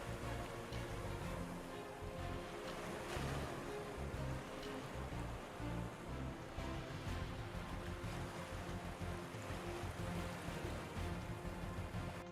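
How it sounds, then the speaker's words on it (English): Pacific Ocean waves crash against sea stacks along the California coast, a faint, continuous wash of surf roar heard from a distance with no voices. "waves crash against sea stacks"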